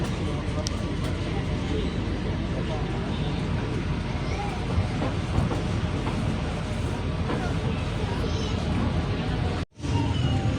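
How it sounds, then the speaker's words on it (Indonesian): Pangrango train pulling out of Parung Kuda station in Indonesia, a steady loud rumble of the moving train heard from on board, with faint voices in the background. "kereta api Pangrango telah diberangkatkan dari stasiun"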